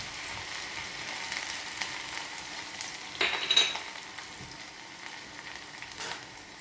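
Crushed garlic and ginger frying in hot oil in a pan, a faint continuous sizzle with soft stirring scrapes and one louder burst of spatter midway.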